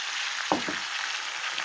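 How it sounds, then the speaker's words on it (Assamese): Potatoes fry in leftover oil in a kadai with a soft, steady sizzle, broken once by a short clunk of a spoon or the pan. "আলুখিনিও মই ভাজি ল'ম।"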